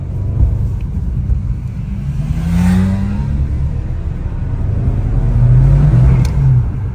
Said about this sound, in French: Petit bruit de turbo, hein?